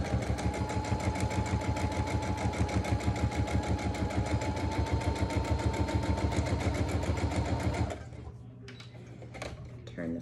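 A sewing machine stitches a quarter-inch seam in fabric with a fast, steady, close mechanical chatter that runs for about eight seconds, then stops, leaving only faint handling sounds.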